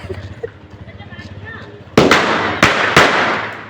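Firecrackers burst during the Tihar festival: three loud, sharp bangs close by, the first landing about halfway through and two more following quickly, each leaving a crackling tail, after a quieter stretch of voices and low background noise.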